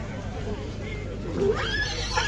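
Horses at a bustling Polish market for heavy draft horses give a neigh partway through, set against steady crowd babble and outdoor noise, with people talking nearby.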